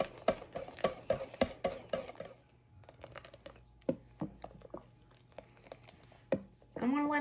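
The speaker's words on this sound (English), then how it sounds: "I'm going to use my whisk to make sure there's no clumps at all" Whisk clinking briskly against a pot while whipped cream cheese is stirred into liquid, a fast burst of sharp metallic taps that slows to scattered scrapes, with a voice talking over it.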